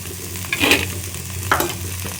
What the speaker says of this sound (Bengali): এবার হালকা হাতে ভাজা ভাজা করি